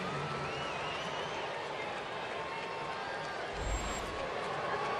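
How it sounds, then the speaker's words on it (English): Baseball crowd cheering and applauding for Chipper Jones coming to bat in Atlanta against the Phillies, a broad steady roar of a distant stadium crowd holding throughout, with a low thump near the end. "Big cheer for Chipper, who goes to work in the bottom of our second inning."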